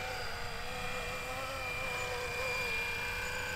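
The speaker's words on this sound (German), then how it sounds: "Dann fängt der Heli automatisch an, mit der Nase nach innen einen Kreis zu fliegen" A FlyWing Bell UH-1 Huey V4 GPS RC helicopter circles nose-inward while holding its height, giving a steady whining rotor and motor drone with a constant high buzz that runs unbroken throughout.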